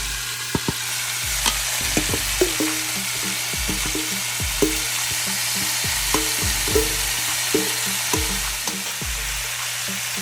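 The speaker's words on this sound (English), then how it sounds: "Now we're gonna add our onions, all right?" Onions fry in a pot for Jamaican oxtail stew, a steady sizzle beneath repeated rhythmic clicks and taps of stirring, close and continuous.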